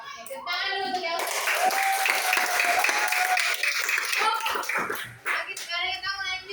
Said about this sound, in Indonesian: tepuk tangan dulu untuk yang